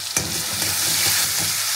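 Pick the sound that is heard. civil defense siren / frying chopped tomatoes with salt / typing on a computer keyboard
frying chopped tomatoes with salt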